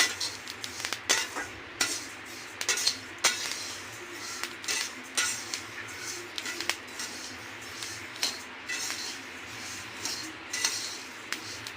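Sesame seeds roasting in a pan, stirred with a metal spoon, giving repeated light scraping clinks and crackling pops at an irregular rhythm, close up with no talking.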